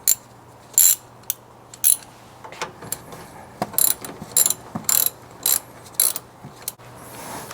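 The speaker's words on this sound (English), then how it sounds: "So once you loosen up the 10mm bolt, you're able to remove the negative terminal." A ratchet works a 10mm bolt on the negative battery terminal of a 2018 Toyota Corolla, with quick bursts of crisp clicking in uneven groups and brief pauses between strokes. The sound is close and clear, and no one talks.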